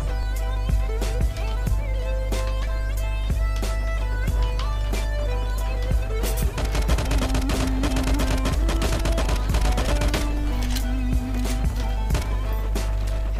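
Rapid FAMAS Snow rifle fire in the shooter LifeAfter, sharp cracking bursts repeating across the whole stretch over a steady low game hum, loud and close, with a few louder volleys midway and no talk.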